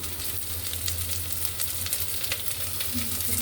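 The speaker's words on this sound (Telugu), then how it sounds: "వెల్లుల్లి, పచ్చిమిరపకాయలు, జీలకర్ర, పోపు, ఉల్లిపాయలు మంచి కలర్ వచ్చే వరకు వేయించాలి" Constant, dense sizzling of onions, garlic, green chillies and cumin frying in hot oil, close and fairly loud, with faint crackles scattered throughout and no talking.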